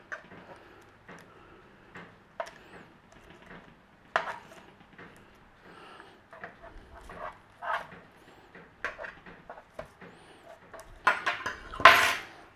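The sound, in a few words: fennel being flipped over on a roasting pan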